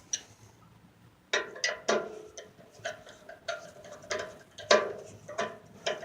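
A screwdriver tightens bolts on a fire pit during assembly, giving a series of crisp metallic clicks and ratcheting ticks in irregular bursts, close and fairly quiet, with no talking.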